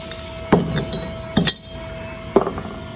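A bolt is worked out of a steel trailer winch mount, giving three sharp metallic clinks and taps spaced about a second apart, close and fairly loud over a faint steady hum.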